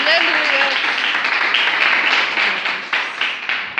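Church congregation clapping during worship, a loud, dense, continuous wash of applause that holds steady before fading in uneven swells near the end.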